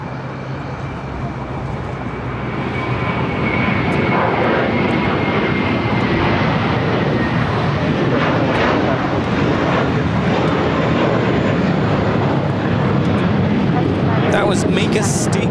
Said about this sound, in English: JetBlue Airways, an A321 headed to JFK, flight 1524.